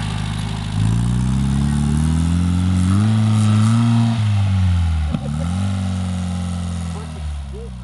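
A buggy engine revs under throttle, rising and falling in pitch over several seconds, loud and close with a steady mechanical drone.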